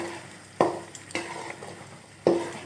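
Mint and coriander pickle with dried red chilli, tamarind, salt and mustard seeds being stirred in oil in a pan: three sharp spoon scrapes against the metal over a soft, steady sizzle.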